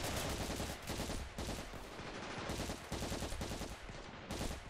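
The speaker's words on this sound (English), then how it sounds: "Let's just use our ordinary machine gun." Dense, continuous machine gun fire from the WW1-mod video game Ravenfield, loud rapid bursts with brief gaps between volleys.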